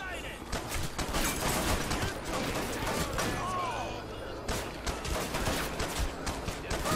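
Gunfire in the video game Hatred, with a police station shootout under way: a dense, continuous barrage of game shots running throughout at steady loudness, mixed with background game noise.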